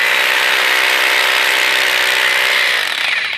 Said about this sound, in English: So here we're drilling the holes for the rebar.